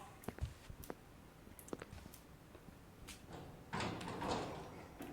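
Several clicks and knocks, then a heavier sliding rumble as doors open, a mechanical grinding swell toward the end, fairly quiet throughout.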